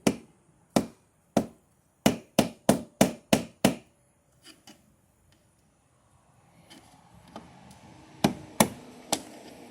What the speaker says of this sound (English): You need a hammer?